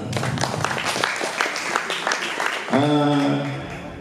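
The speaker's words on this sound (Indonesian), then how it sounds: "Tepuk tangan untuk Pak Rahmat." Audience applause at a Perisai Diri martial arts branch inauguration ceremony, a busy wash of clapping for most of the stretch before a voice begins speaking near the end.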